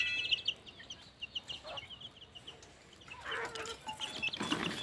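Hens clucking in a backyard flock with chicks, a series of soft, fairly close clucks and calls over light background noise, with no talking.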